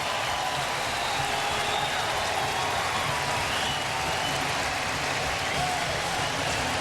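A baseball stadium crowd at a Braves at Blue Jays game cheers a leaping tag play, producing a dense, continuous roar and clapping that holds steady throughout without letting up.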